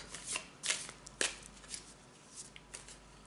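A deck of tarot cards shuffled by hand nearby, with several quick riffling bursts and soft pauses between them. The sound is fairly quiet and stands alone, without speech.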